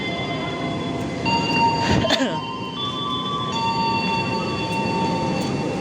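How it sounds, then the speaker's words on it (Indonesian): The Pangandaran Panoramic tourist train in Indonesia rumbles close by with a steady roar and sustained metallic whines, and a brief louder clank comes about two seconds in. "Kita masuk, ini dia keretanya."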